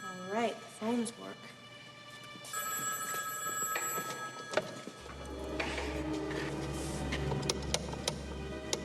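A telephone rings in bright warbling trills early on, followed by a sustained electronic tone and scattered clicks while a low hum and brief voices carry on underneath.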